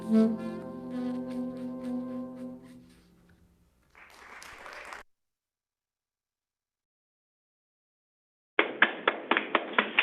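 Hand clapping from a chamber meeting audience comes in short sharp bursts, one patch around the middle and a quicker run of claps at the end, with a held tone and near-silence between them.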